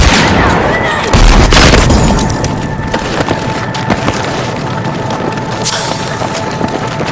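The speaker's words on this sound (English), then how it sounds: "Launching frag!" A frag grenade is launched and explodes in a shooter video game, a loud booming burst with splintering debris over dense battle noise and scattered gunfire, with a later sharp crack.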